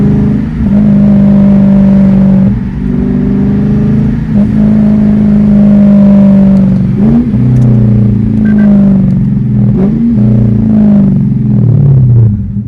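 A Lexus IS F sedan accelerates hard on the road, its engine climbing through repeated rising pulls with brief dips between shifts, loud and close with a steady rumble underneath.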